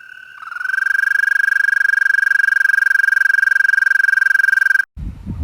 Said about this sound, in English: The eastern American toad.